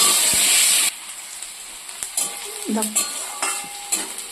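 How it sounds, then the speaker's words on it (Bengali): Onion fries in a pan for a small-fish dish with lemon leaves. A bright, loud sizzle lasts under a second, then drops to a quieter simmer broken by clinks and scrapes of stirring. "আর যে পেঁয়াজটা ভাজা ভাজা একটু করে নিই"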